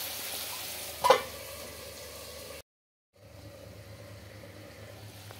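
Chicken fry cooking in a pan, Kumari aunty style: a steady oily sizzle with a sharp clatter early on, a brief pause, then a quieter, even sizzle resuming.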